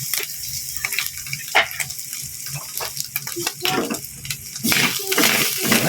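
Broccoli sautéing in a pan for ginisang broccoli, bursts of sizzle and crackle rising and falling over six seconds, with a voice speaking briefly in between.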